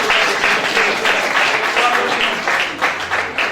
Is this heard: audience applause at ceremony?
yes